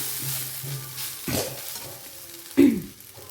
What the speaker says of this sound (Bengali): দেখুন, এইভাবে আমি নাড়িয়ে নেব